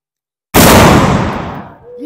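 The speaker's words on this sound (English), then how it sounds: "Cannon firing, cover your ears." A Revolutionary War-era cannon fires at a coastal Georgia fort historic site, a single loud close blast with a long rumbling decay that trails off over about a second and a half.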